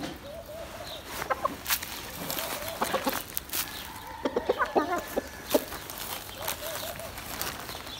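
Chickens and a rooster cluck around a village yard at feeding time, with scattered short calls and squawks close by over a steady outdoor background.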